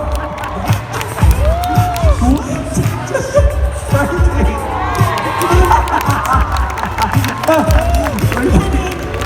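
A crowd at MCM Comic Con cheers, shouts and claps loudly and close by, with excited whoops and scattered clapping rising and falling throughout, and voices calling out over the din.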